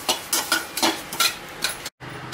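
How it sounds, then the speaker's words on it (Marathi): White sesame seeds roasting in a pan for Yesur masala and being stirred, a steady run of light scraping and rustling strokes in a quick rhythm, close and moderately loud. "आता हे मी एक तीळ टाकले भाजायला, त्याला तीळ पुढे भाजून घ्यायचे आहे"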